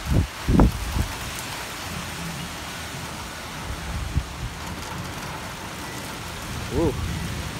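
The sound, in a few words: thunderstorm with rain and thunder in Portland, Oregon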